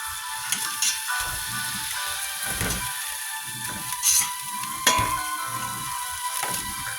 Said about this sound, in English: what I have here is the other 12 sausage. And what I'm doing is just browning them up